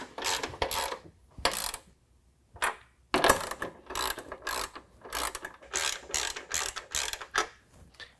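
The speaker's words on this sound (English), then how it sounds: "using our 13 millimeter, tighten up our 3 nuts" Ratchet wrench with a 13 mm socket tightening three nerf bar bracket nuts on a 2019 Ram 1500, heard as bursts of close, rapid clicking separated by short pauses, with no talking.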